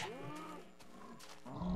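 A cow moos in the video game Minecraft, one drawn-out low bellow followed by a shorter grunting call, fairly close and moderately quiet, with no talk over it.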